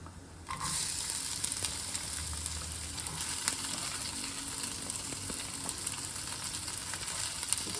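Fenugreek seeds, fennel and chopped onions frying in a hot pan, giving a steady, close sizzle with occasional crackles and faint stirring, no talk.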